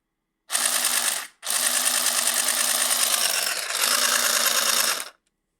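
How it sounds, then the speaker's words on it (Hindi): A compact handheld stitching machine runs loud and close, making a steady mechanical whirring buzz in three continuous runs separated by brief pauses. "चलिए शुरू करो सिलाई आप।"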